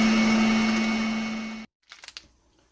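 An electric mixer whips an orange dreamsicle cream filling, a loud steady motor whine that cuts off abruptly, followed by a few soft clatters.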